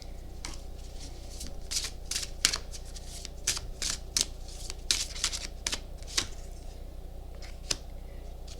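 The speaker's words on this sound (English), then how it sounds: "As I drop all the cards." Tarot cards are shuffled and dropped, a rapid series of crisp close riffling flicks and slaps repeating irregularly over a faint low hum.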